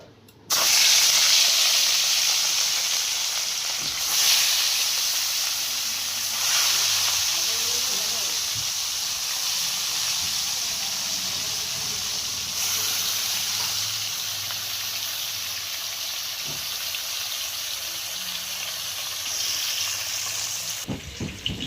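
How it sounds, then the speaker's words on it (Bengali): Fish frying in hot oil in a heated wok: a loud, steady hiss and sizzle that persists throughout, with occasional surges and faint clinks of a utensil. "এখন সবার প্রথমে মাছটা আমি ভেজে নেব"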